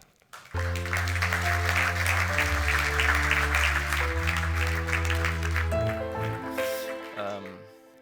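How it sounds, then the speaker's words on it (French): Conference audience applauding a speaker as he walks on stage, with clapping heard beneath loud, sustained walk-on music that ends abruptly. "je vous invite à applaudir Michael pour son entrée en scène"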